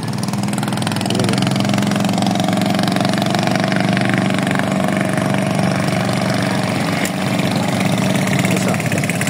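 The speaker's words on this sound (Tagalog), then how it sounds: "Dadaan na bangka." A passing motorboat engine drones continuously at close range in Hagonoy, Bulacan, a low rumbling hum that holds level throughout without pauses or voices.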